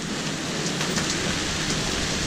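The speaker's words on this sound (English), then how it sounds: "It's raining now, there's lightning around us." Rain lashes a sailboat during a squall at sea in the Gulf of Aden with lightning nearby, a steady close hiss of drops striking the surface throughout.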